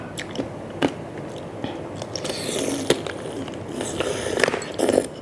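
Crunchy bullet jellyfish dipped in seafood sauce bitten and chewed up close, with a few sharp crunching bites spread among steady wet chewing.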